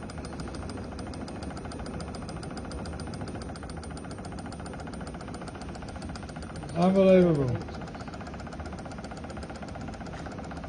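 A small handmade heat engine built to an 1800s-era design, with no exhaust or intake, runs quietly with a fast, steady mechanical ticking throughout; a man briefly exclaims partway through.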